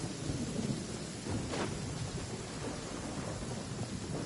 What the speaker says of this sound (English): What's a little thunder when even lightning wouldn't dare strike our path?